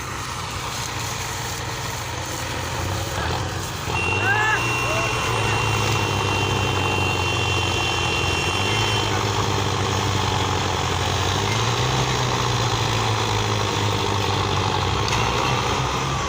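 Several heavy tractor engines and a JCB run loudly together on a farm, their deep rumble growing after a few seconds and holding steady, with voices heard faintly beneath.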